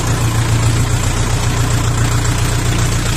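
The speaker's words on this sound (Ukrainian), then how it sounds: "це сам їде трактор на своєму" A LOVOL 354 mini tractor's diesel engine runs steadily nearby, a loud, constant low chugging rumble with no one speaking.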